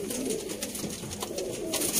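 Pigeons in a coop for sale in Sialkot coo in soft, continuous, overlapping murmurs, close by, with faint background noise.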